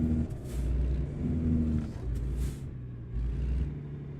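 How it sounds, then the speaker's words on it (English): A truck in the video game American Truck Simulator drives through Missouri, its engine rumbling low and steady with swells as it accelerates, and hissing bursts of air brakes. "Should be able to hear the truck."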